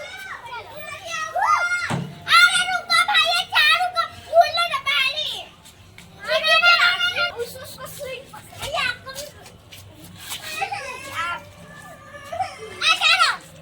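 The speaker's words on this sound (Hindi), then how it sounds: "कैसा चिल्लावत लड़का मन" Children play and shout near swings in a small garden, with loud excited high-pitched cries and chatter coming in bursts. Several young voices overlap at close range.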